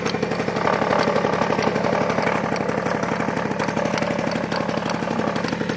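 A Peugeot 103 SPX moped engine idles close by with a fast, even two-stroke putter that wavers slightly in pitch, running alone without voices.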